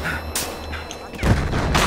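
Gunfire in the video game Battlefield Hardline on a desert map, a few loud sharp shots with booming tails cracking out over a continuous rumbling background.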